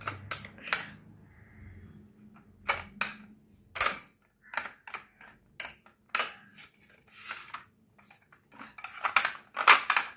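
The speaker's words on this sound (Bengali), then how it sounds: "এগুলোকে আমি একটু ভালো করে মিশিয়ে দেবো, মিশিয়ে দিচ্ছি সবগুলোকে।" Homemade tutti frutti pieces are stirred together in bowls, with a spoon clinking and scraping against the dishes in irregular bursts separated by quiet gaps.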